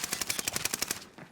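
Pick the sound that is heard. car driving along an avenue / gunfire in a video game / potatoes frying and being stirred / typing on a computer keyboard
gunfire in a video game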